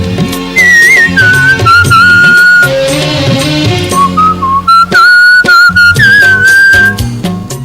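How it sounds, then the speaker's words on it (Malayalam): Loud, close melodic whistling from a record-holding father and son in Koothattukulam, Ernakulam, with sustained pitched phrases and quick slides over a musical backing track. "എറണാകുളം കൂത്താട്ടുകുളത്ത് ചൂളമടിച്ച് ശ്രദ്ധേയനായ ഒരച്ഛനും മകനുമുണ്ട്."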